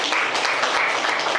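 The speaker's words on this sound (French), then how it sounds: "Applaudissez très fort," Audience applause at a business training seminar, a dense steady wash of clapping sustained without a break, fairly loud and close with no talk over it.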